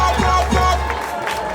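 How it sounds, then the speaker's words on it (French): Wedding guests in a hall cheer and clap together in a steady, dense wash of crowd noise that eases slightly toward the end. "Sous vos acclamations, s'il vous plaît."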